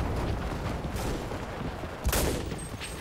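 Constant rumbling battle noise in the WWII shooter Enlisted, with scattered gunfire and a sharper, louder explosion bursting about two seconds in before the din settles back.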